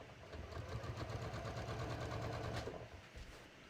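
A sewing machine runs steadily, stitching through the layered seam allowances of jeans, a fast even rhythmic whirr and clatter that stays close and quiet for a few seconds before slowing at the end.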